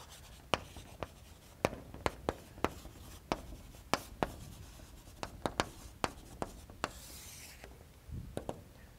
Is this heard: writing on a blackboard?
yes